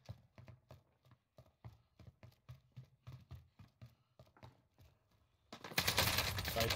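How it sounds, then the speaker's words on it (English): Rapid nail gun shots in a Call of Duty match, a steady run of sharp evenly spaced cracks for about five seconds, followed by a sudden loud burst of dense noise. "It's the same kid with the nail gun."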